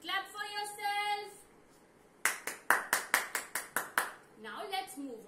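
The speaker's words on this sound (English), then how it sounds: "Clap for yourself." Children clapping for themselves during a shapes lesson, about a dozen quick claps in a short burst, close by, between stretches of talking.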